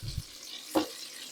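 A brief sizzle as egg-coated low-carb doughnut dough drops into hot fat in a pan, with a soft stir or clink, close and fairly quiet.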